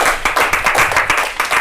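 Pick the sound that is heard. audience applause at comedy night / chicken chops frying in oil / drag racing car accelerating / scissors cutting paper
audience applause at comedy night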